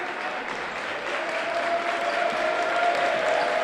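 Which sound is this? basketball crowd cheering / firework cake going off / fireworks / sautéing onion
basketball crowd cheering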